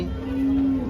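A Gir cow at a cattle market lets out a single close, steady low moo lasting under a second.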